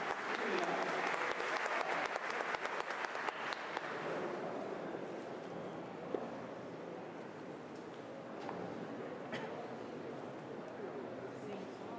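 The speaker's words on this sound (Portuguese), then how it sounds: "uma salva de palmas para o James." An audience at a 2012 lecture in Peruíbe, Brazil claps loudly for a few seconds, then the applause fades into quieter room noise with a few scattered claps.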